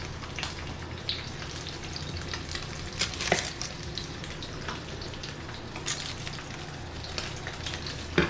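Onion frying in a pan for a surf and turf dinner gives a steady, close crackling sizzle with scattered sharper pops, continuing evenly with no voices.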